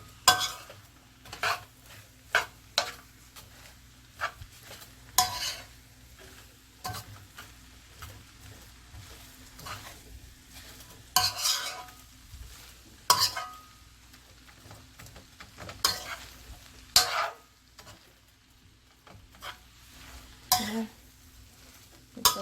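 Fried rice with scallion being stirred and tossed in a sizzling pan, irregular scraping and clanking strokes over a low continuous fry, close, without speech.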